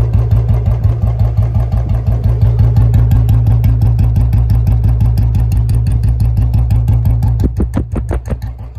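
A Royal Enfield Bullet 350, a BS6 model converted to BS3, idles with a steady, loud thumping beat close by, the firing rhythm holding even throughout before a few quick blips of throttle near the end.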